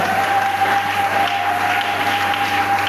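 A church congregation applauds together, steady dense clapping that fills the room without a break, with a faint sustained tone running beneath it.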